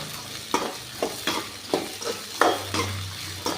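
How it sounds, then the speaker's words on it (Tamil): Finely chopped ridge gourd sautéing in hot oil, a steady low sizzle broken by regular scraping strokes of a spoon against the pan, about one every half second, close and moderately loud. "இந்த எண்ணெயில் நல்லா பீர்க்கங்காயை வணக்கிக்கலாம்ப்பா"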